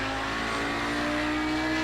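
Audi 90 GTO race car accelerating on the Twin Ring Motegi circuit, its engine a steady, loud, near roar with sustained harmonic drone and no talk.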